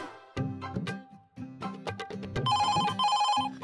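A telephone rings in a home with bright repeated electronic trills in the latter half, with scattered household noises and thumps before it.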